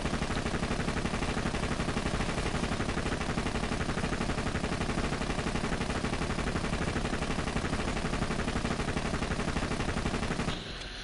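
Legendary pistol fire in Borderlands 2, rapid continuous shots with a slightly faster fire rate, loud and relentless in a dense stream that stops abruptly at the end.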